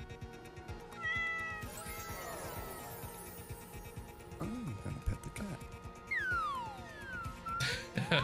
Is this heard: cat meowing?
yes